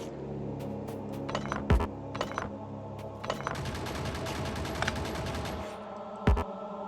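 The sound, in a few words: gun turrets firing in the video game Factorio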